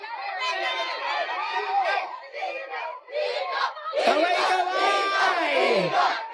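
Crowd at the Araw ng Pasig 2025 civic parade cheers and shouts loudly, many voices yelling together in surging bursts, close and energetic, with a louder swell in the second half.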